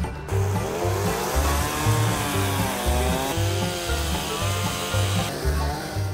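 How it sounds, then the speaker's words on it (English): A chainsaw carves an ornamental wooden fish, its engine droning loud and close with revs that rise and fall as the blade works the wood, continuous throughout. "Richard will personally carve the ornamental fish of your dreams using his chainsaw"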